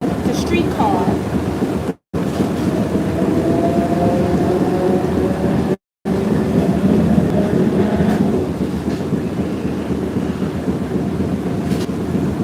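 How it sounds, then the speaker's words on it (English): A streetcar rides along its tracks, a steady rumble and rattle heard from on board, with faint squeals and wind noise throughout and brief dropouts in the sound. "Not the train, the streetcar."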